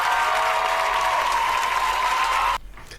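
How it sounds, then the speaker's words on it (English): A live concert crowd roars with sustained cheering and applause, loud and dense, then the noise cuts off abruptly near the end. "the crowds were cheering for a while"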